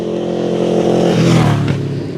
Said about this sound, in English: noisy little motorbike.